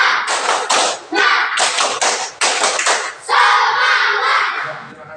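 Students doing a rhythmic group clap in a classroom, loud bursts of clapping in short patterned groups with brief pauses, mixed with children's voices chanting along.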